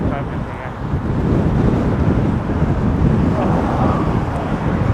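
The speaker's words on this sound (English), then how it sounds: "it is very windy here" Strong wind buffeting the microphone outdoors in Budapest with a constant low rumble, loud and continuous, with faint voices underneath.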